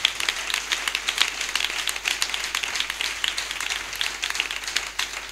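Church congregation applauding, a continuous fairly faint patter of many hands clapping at moderate distance, steady throughout with no voices standing out.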